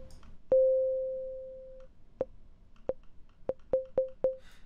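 Synthesizer plucks with a fast-decaying volume envelope: one long sustained tone, then a run of short, bright plucked notes in quick succession, clear and alone.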